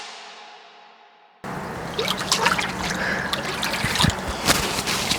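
Water churning and trickling in a hot tub, a bubbly, splashing wash that starts abruptly after a brief quiet fade and continues close and steady with small drips and sloshes.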